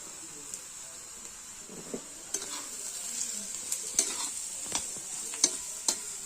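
Onion sautéing in a pan as turmeric, garam masala and red chili powder are stirred in, a steady soft sizzle broken by light spoon scrapes and clinks against the pan, close by with no talking.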